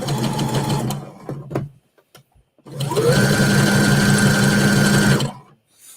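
Sewing machine running a zigzag stitch to sew a patch onto jeans: a short burst of rapid mechanical chattering, a pause, then a longer steady run of fast stitching close by.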